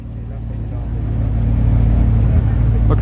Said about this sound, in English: Able to catch a red Carrera GT leaving the show.